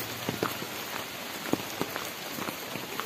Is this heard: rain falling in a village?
yes